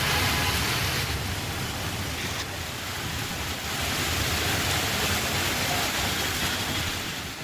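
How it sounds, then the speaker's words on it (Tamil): Heavy rain pours steadily over Hyderabad in Telangana during the summer heat, a dense unbroken hiss of falling water that stays loud and even throughout with no voices. "கோடை வெயிலுக்கு மத்தியில் தெலங்கானா மாநிலத்தின் தலைநகர் ஹைதராபாத் நகரில் பலத்த மழை பொழிந்தது"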